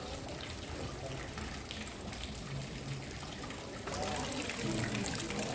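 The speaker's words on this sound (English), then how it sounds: "And the little water fountain." A small water fountain in the Alhambra trickles softly and steadily, a faint continuous splash and dribble amid quiet background murmur of people, swelling slightly louder toward the end.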